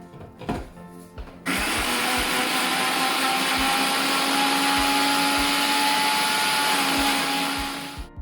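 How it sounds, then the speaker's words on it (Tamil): A mixer grinder grinds roasted grated coconut with a loud, steady whirring drone. It starts abruptly after a few brief knocks and holds constant before easing off near the end, close and alone. "தேங்காய் பூவை நல்ல ஸ்மூத்தாக அரைச்செடுக்கணும்."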